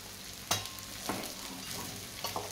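Poha with oil-fried peanuts stirred and fried in a kadhai: a soft, continuous sizzle with a sharp scrape or clink of the spatula early on and several lighter stirring scrapes after.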